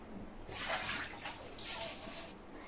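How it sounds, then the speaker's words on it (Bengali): Raw mangoes being washed in water: two bursts of splashing and sloshing, close and moderately loud, separated by a brief lull. "এই দেখুন আমগুলোকে আমি পরিষ্কার করে ধুয়ে নিলাম।"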